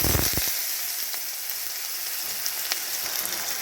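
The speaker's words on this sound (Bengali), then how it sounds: "এরপরেই এর মধ্যে দিয়ে দিচ্ছি কুচিয়ে রাখা আলুটা" Chopped potato sizzling in hot oil with curry leaves and tempering spices, a steady broad frying hiss with a few sharper crackles and stirring clinks early on, close and fairly loud.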